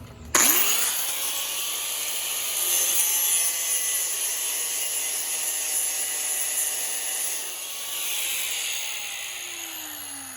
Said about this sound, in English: So just using a regular grinder with a wheel, with a grinding wheel on it, not a cutting wheel, a grinding wheel.